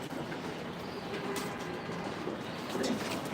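Racing pigeons coo softly inside a loft, low murmuring calls half buried in a steady wash of background noise.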